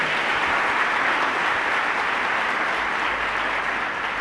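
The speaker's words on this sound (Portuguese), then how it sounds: "Pode aplaudir, o céu dentro de você" A church audience at a Portuguese-language sermon breaks into steady, dense applause, many hands clapping continuously at an even, fairly loud level for several seconds with no talking over it.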